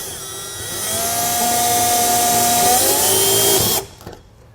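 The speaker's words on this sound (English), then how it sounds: "I'm just going to do a little pilot hole there, another one up here" A power drill bores a pilot hole into an RV trailer wall, a loud close whine that rises, holds steady for several seconds, then cuts off abruptly.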